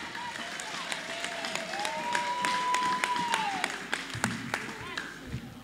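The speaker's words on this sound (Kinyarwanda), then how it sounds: "Tumukomere amashyi cyane." Audience applause at a Christian worship gathering: sustained, dense clapping that swells and fades, heard alongside a sung or spoken voice.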